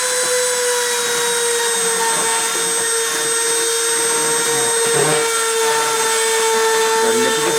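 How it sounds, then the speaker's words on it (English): Spindle-driven deposition machine running at a constant XZ feed ratio of 80, giving a loud, steady, high whine with several sustained tones over a continuous mechanical drone, close by and with no talking. "So I'm going to start the spindle and start the deposition."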